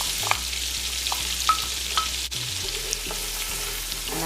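Onions sauté in melted salted butter in a pan, making a soft, steady sizzle with occasional pops and stirring clicks, close and fairly quiet with no talking.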